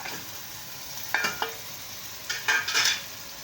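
Meat sizzles as it goes into a hot pot for degi gosht, with two bursts of crackling, stirring and spoon scrapes standing out against a steady frying hiss, with no talking.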